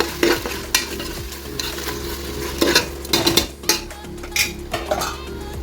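Chicken coated with turmeric powder being stirred in a hot frying pan for chicken biryani, with repeated scraping and clinking of a metal spoon against the pan over a steady, close sizzle.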